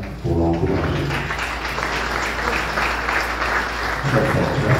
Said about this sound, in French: on acclame pour l'encourager